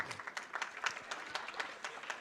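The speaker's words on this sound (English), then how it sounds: "You get a round of applause." Faint, steady applause from an audience at the St. Philomena auction event, with dense overlapping hand claps heard from a distance, continuing throughout without a break.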